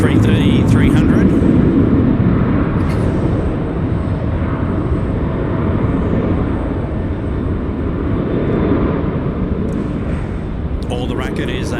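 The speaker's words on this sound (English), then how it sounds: "All the racket is a Velocity 181 to Nandi. Oh, correction, Qantas 578 rather, to Honolulu" Qantas jet airliner thundering down the runway on departure from Sydney Airport, a loud, continuous broadband roar that holds steady for the whole stretch, with faint sounds of other activity nearby.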